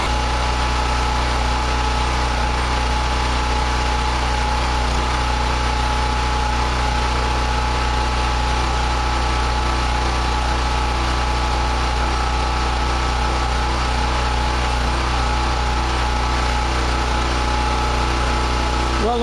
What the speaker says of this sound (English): we'll run this generator